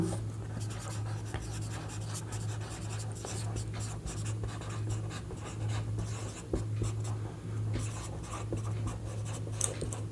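Chalk or marker writing on a board during a vector lecture on boats and river crossings, with quick scratchy strokes and taps coming in irregular bursts over a low steady hum, no talking heard.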